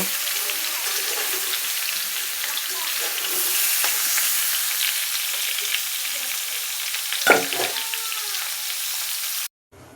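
Jackfruit pieces fry in oil in a kadai with a steady, close, loud sizzle throughout, one brief clattering stir near the end, then sudden quiet.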